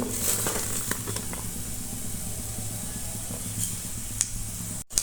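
Chopped onion and chili hit butter in a pan for restaurant-style noodles, making a loud, continuous sizzle with a hissing spray quality over a low hum, then cutting off abruptly just before the end.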